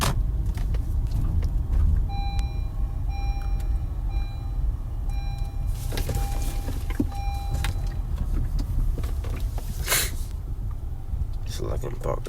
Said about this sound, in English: so I can park this car real quick.